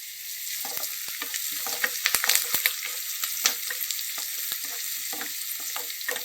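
Curry leaves, a sprig of them, fry in hot oil with a dense, steady crackling sizzle, punctuated by sharper pops and spatters and a few stirring scrapes, close and fairly loud with no talking.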